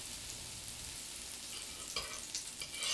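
Butter sizzling on a hot griddle while cooking banana pancakes: a faint, even hiss throughout, with a few small crackles near the end.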